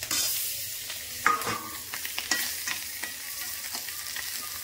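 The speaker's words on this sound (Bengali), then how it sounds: "4 পিস মাছ ভাজি করবো" Four pieces of fish frying in a pan, a steady hiss of oil broken by scrapes and taps of a spatula stirring and turning them, close and fairly loud with no talking.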